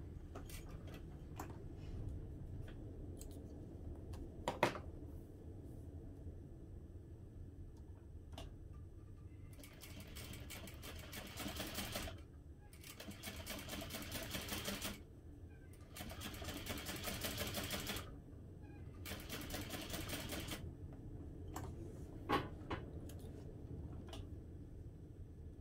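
A sewing machine stitches along the long edges of a holiday stocking in three bursts of steady whirring with short pauses between them, close and moderately loud over faint background rumble, with no voices.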